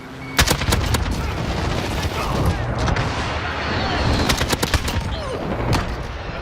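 Suppressed gunfire from a Call of Duty video game weapon: a run of sharp muffled shots in quick bursts with reload clatter between them, loud and close.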